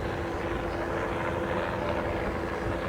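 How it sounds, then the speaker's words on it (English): Helicopters trailing an offshore powerboat race off Cape Coral, Florida, in 1983, a continuous loud rotor and engine roar with a steady drone, close and unbroken throughout. "Surrounded by an armada of helicopters that have followed this race for us all the way"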